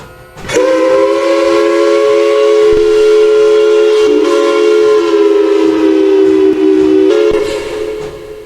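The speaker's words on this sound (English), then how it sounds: "Here comes the freedom train." A loud, sustained multi-tone train horn blares almost continuously for several seconds, shifting pitch slightly midway, with a rumbling train underneath.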